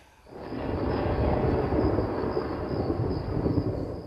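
A thunder sound effect in a Marathi stage play rises after a brief quiet into a loud, sustained low rumble that rolls on steadily for several seconds with no one speaking.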